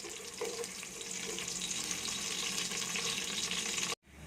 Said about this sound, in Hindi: लहसुन को तकरीबन हमने गोल्डन कलर का करना है